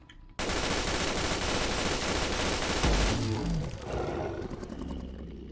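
A fully upgraded PP-91 Kedr submachine gun in Fallout 4 fires a dense, rapid burst at a Deathclaw for about three seconds, then the noise tails off into rumbling, roar-like sounds.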